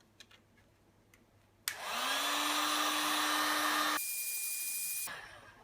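A heat gun warming a sheet of Worbla thermoplastic cuts in with a loud, steady blowing roar and whine, runs for about three seconds, shifts pitch, then winds down, with quiet room sound before it.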